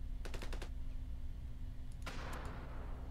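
A bazooka fires in the video game Ravenfield with a sharp, sudden blast and rushing roar, following a quick burst of rapid gunfire, all over a constant low background hum.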